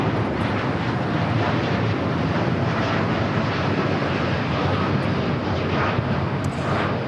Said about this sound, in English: 1855 taking off to Newark on the 787-9 Dreamliner.